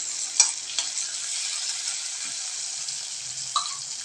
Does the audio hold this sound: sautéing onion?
yes